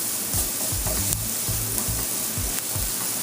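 Ingredients sizzling loudly in an oiled pan, stirred quickly while frying to a golden colour, with a close, continuous sizzle and repeated scraping stir strokes throughout.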